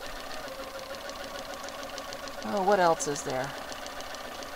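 A sewing machine running during quilting, a steady rapid mechanical whir under a woman's brief speech, close and moderately loud.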